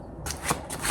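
Tarot cards being shuffled by hand, a short, close, crisp burst of riffling paper that starts abruptly and ends after under a second.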